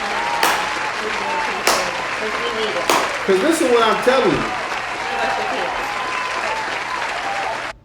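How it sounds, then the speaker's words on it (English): A slow hand clap sounds as three sharp, evenly spaced single claps about a second apart, mixed with scattered clapping, before someone talks over the fading noise. "give a slow hand clap to all the single parents out there"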